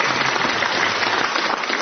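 A radio quiz audience applauds the winner, dense steady clapping from a studio crowd lasting a couple of seconds.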